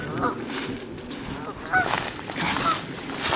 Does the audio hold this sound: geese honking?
yes